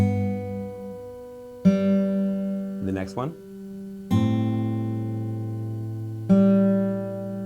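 Three ringing acoustic guitar chords plucked one after another, each sustaining and fading, with a brief spoken phrase between the first and second.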